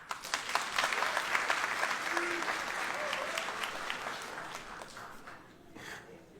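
A comedy-show audience breaks into sustained applause, dense clapping that swells early and slowly fades toward the end.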